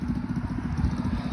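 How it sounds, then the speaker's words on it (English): A Coleman CT100 100 cc mini bike fitted with a loud exhaust and an aftermarket air filter idles nearby with a steady, low, pulsing putter that runs through the whole moment. "so he's got a loud exhaust, and he's got an air filter"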